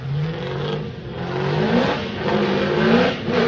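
A Nissan S-chassis drift car at a Formula Drift qualifying event in Orlando revs hard and loud, its engine note rising and falling in repeated sweeps as it drifts, heard up close and continuous.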